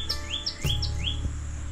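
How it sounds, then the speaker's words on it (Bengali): Birds chirp on a rainy monsoon hilltop among planted cottage grounds at Ajodhya Hill in Purulia: several clear, rising whistled notes repeat close by over a steady damp background hum, with a couple of sharp knocks. "পাখির আওয়াজ।"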